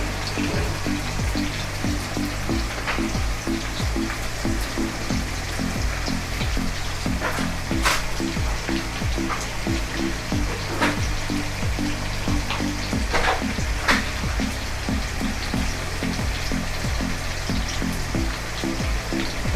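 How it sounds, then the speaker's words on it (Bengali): Onions frying in a pan until browned, a steady close crackling sizzle with scattered pops running unbroken throughout, over faint background music. "পেঁয়াজটা আমরা একটু ভাজবো"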